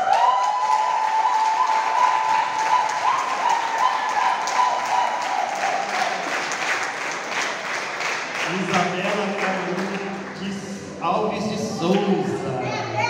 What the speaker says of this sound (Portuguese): Mas eu queria uma salva de palmas muito mais empolgantes